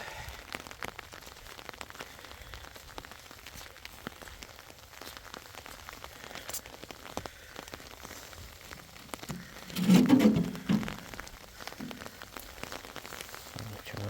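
Heavy, stormy rain patters steadily on surfaces outdoors in an orchard during a volcanic navel orange harvest, a soft continuous hiss with scattered drops, while a voice speaks briefly partway through.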